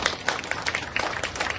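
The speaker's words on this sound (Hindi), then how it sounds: "तो इनके लिए एक बार तालियां हो जाए जोर से" Brief, scattered clapping from an audience at an election campaign rally in east Ahmedabad, a short burst of uneven claps at moderate volume.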